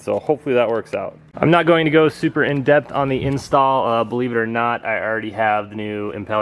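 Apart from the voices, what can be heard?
No distinct noise like a dog, phone or traffic.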